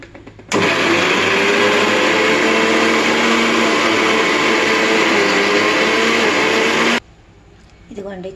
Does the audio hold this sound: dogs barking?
no